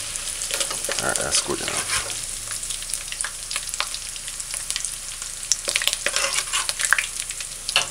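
Ginger stir-frying in a pan for a sliced king fish callaloo, a continuous close sizzle broken by repeated scraping stirs, with a brief spoken remark over it.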